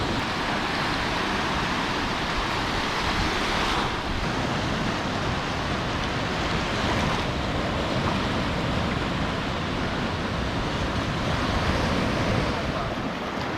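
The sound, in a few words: beach waves on the Dominican Republic north coast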